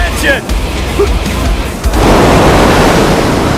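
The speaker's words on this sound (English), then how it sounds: "Most of the class have never seen waves this big." Big ocean surf on a training beach, waves breaking and washing in a steady broadband roar that swells louder in the second half, with voices faintly audible underneath at the start.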